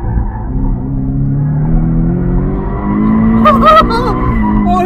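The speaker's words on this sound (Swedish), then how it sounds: "Måste du drifta lite med? Ja, det är klart man måste det." A race car driven hard on track, engine revving and rising in pitch through a drift, with a brief burst of tyre squeal near the end, all loud and close from inside the cabin.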